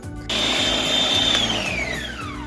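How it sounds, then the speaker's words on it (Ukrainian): A loud blender motor starts and runs continuously, its whine gradually dropping in pitch as it chops eggplant and vegetables. "Все це перебиваю блендером чи кухонним комбайном"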